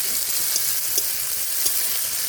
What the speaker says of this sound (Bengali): পেঁয়াজটা তাড়াতাড়ি ভাজা হবে